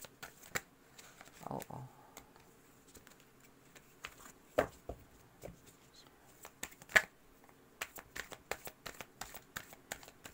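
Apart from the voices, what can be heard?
shuffling tarot cards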